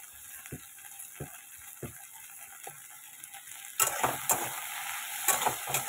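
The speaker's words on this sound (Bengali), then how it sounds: "ভেন্ডিগুলো একটু ভালো মতো ভাজা হবে।" Okra fries in a pan with a soft, low sizzle, punctuated by a few sharp scraping stirs, then the frying grows noticeably louder and busier with quick stirring clatter near the end. Nobody speaks.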